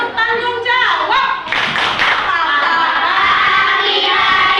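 A class of children claps in a rhythmic chant, loud and close, with voices chanting along over the patterned clapping.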